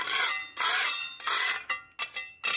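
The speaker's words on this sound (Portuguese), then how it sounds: "Aonde dá pra raspar assim eu raspo." Rasping scrapes of a tool clearing small weeds from the corners of a staircase, several long strokes followed by shorter ones, close and loud with no talking.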